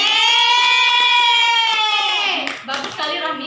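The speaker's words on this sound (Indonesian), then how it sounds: "Beri tepuk tangan untuk Rahmi." A primary classroom applauds a student named Rahmi. Children's voices rise together in a loud unison shout over quick clapping, then fade into scattered chatter.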